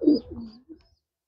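A racer pigeon coos once up close, a low soft throaty call in a short burst that trails off, then a brief faint second murmur before silence.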